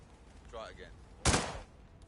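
A single sharp gunshot in a stealth assassination game set at a Dartmoor estate, a short loud crack with a brief tail, preceded by a faint tonal game sound.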